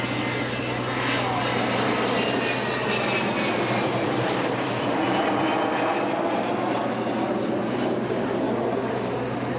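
An Avro Vulcan bomber flying at an airshow produces a continuous, loud, rumbling jet roar that holds steady throughout without a break.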